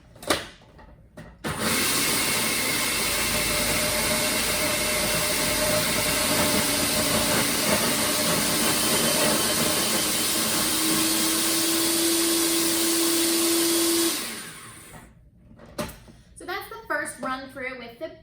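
A countertop blender runs on beans as part of a sweet treats cooking demo: a loud, steady whirring roar holds for about twelve seconds, then winds down, followed by a voice speaking.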